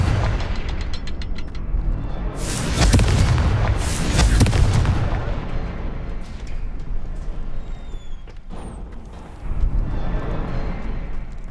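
A Confringo fire spell in Hogwarts Legacy goes off in a cluster of loud, booming blasts, two heavy bursts in quick succession, then rumbling debris and scattered crackles, with a further thud near the end.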